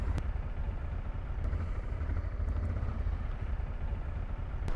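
A group of twelve motorcycles rides together on the road between Lublin, Kraśnik and Sandomierz, giving a steady, loud, continuous engine rumble with no talk.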